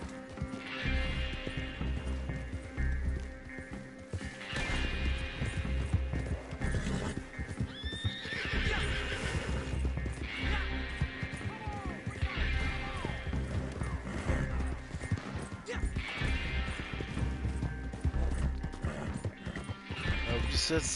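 A white horse in a video game whinnies and snorts while its hooves clip-clop steadily throughout, set against a dense game soundscape, with someone talking over it.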